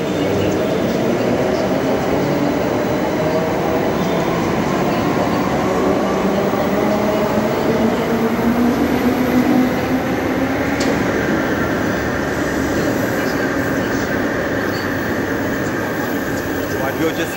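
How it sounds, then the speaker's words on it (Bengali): A metro train pulls out of an underground station, its steady rumble and rising whine filling the platform at a close, constant level. "একটা মেট্রো ছেড়ে দিয়েছে।"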